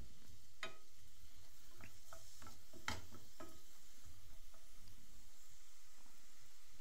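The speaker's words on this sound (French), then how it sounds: "J'y dépose mon oignon qu'on aura coupé en morceaux. Je laisse mijoter à feu doux pendant 1 minute." Chopped onion in sunflower oil simmering in a pan over low heat, a quiet close sizzle with scattered crackles and a few sharp clicks of a utensil against the pan.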